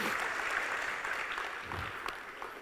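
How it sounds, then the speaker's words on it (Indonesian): An audience at a mosque religious gathering applauds briefly, a soft, steady patter of clapping heard from some distance. "Boleh sekali lagi tepuk tangan yang paling meriah untuk semua yang hadir di sini"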